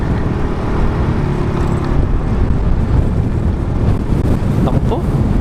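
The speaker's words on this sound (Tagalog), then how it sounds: "Ang lakas ng hangin." Strong wind buffets the microphone on a motorbike ride through a windmill farm and eco park, a loud continuous low rumble with engine drone mixed in.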